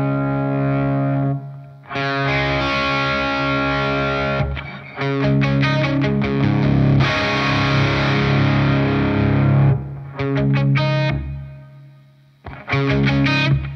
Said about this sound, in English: yeah, it definitely does break up faster